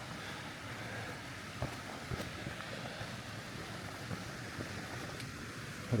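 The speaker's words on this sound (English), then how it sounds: "there's just waterfall after waterfall and rapids after rapids, making great water sound" A mountain creek tumbles over a series of waterfalls and rapids on a Maroon Bells backcountry loop, giving a steady, broad rushing roar heard alone with no talking.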